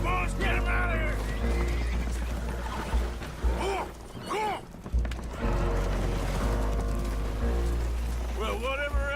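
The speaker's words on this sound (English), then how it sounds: "Horses are spooked, and we're taking on water." Spooked horses aboard a leaking boat in Red Dead Redemption 2 whinny and neigh repeatedly over a low rumbling engine, with splashing and hoof clatter mixed in and voices talking.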